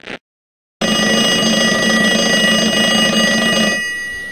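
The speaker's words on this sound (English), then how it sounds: "The bell rang." A school bell at the end of the first day of school rings in a steady, sustained electric jangle for about three seconds, loud and alone, then cuts off after a brief earlier ding.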